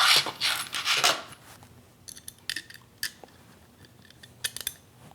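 Small metal screws being grabbed and handled at a workbench while building a lathe control panel, with brief light clinks and rattles between quiet pauses, close and fairly faint.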